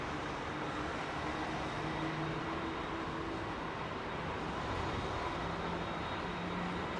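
A jet aircraft departs London Heathrow Airport as a broad, steady roar with a faint high whine, heard from some distance, constant in level with no voices over it.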